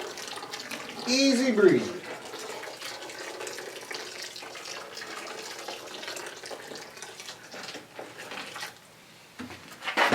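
Water poured gently back into a brewing kettle during a homebrewed French lager-style ale, a steady splashing flow running near and continuous for most of the clip under a brief spoken remark.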